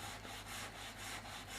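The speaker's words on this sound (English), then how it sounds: "I've just got the 80 grit on this block just for initial sanding purposes" An 80-grit sanding block rubbing back and forth over bare metal on a car body panel during repair, giving a steady close scraping hiss in rhythmic strokes with no talk.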